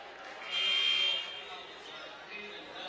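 A high school boys' varsity basketball crowd roars for a few seconds after a big blocked shot, loud cheering over gym noise that settles back to a murmur, with a commentator talking throughout.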